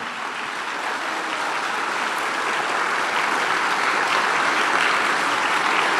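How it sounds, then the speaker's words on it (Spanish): A church congregation applauding during a sermon, a dense, even wash of many hands clapping that holds steady and loud throughout with no pauses. "Dale aplauso al Señor."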